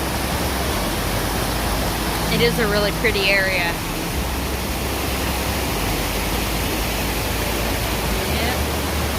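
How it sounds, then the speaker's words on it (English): Water rushing steadily through a stream on the Appalachian Trail in Connecticut, a constant broadband wash filling the whole clip, with a person talking briefly over it. "there's a lot of water coming through right here"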